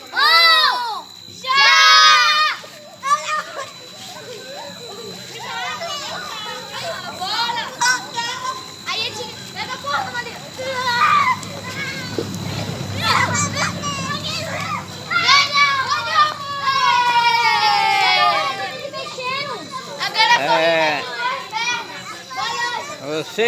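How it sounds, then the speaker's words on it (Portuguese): Children playing outdoors beside a bonfire at night, a lively close-up mix of shrieks, shouts, laughter and chatter from several kids that swells and fades over about twenty-three seconds, with crowd noise in the background. "Aqui onde tem as crianças brincando."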